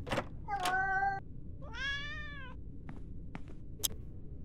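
A cat in the video game Yuppie Psycho gives a few clear, close meows, followed by some soft clicks and thuds over a quiet background.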